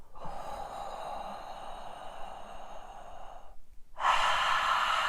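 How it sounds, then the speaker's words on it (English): A long, steady inhale through the mouth during a so hum breathing exercise, close and airy, followed after a brief pause by a stronger, louder exhale. "We can breathe in while our mouth is like this."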